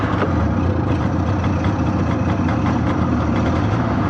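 A vintage snowmobile engine idles steadily in freezing cold, a close, loud, even low-pitched drone with a fast, rough pulse that holds without a break throughout; no voices.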